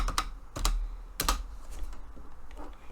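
Computer keyboard typing in a few short bursts of quick keystrokes, close and fairly quiet, with pauses between bursts and no talking.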